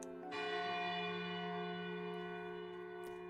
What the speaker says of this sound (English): a bell sounds from the foot of a hill. Several long, slow rings.